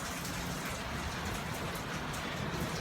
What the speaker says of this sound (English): Not a hard rain, although occasionally the wind is quite strong